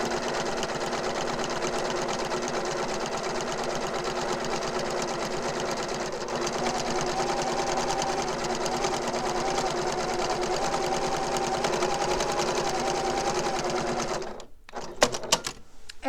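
A sewing machine stitches the binding on a quilt in a steady, close, continuous whir for about fourteen seconds. It then stops with a few clicks and handling sounds.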